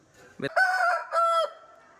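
A Salem rooster crows once, loud and close, in a drawn-out two-part call that trails off at the end.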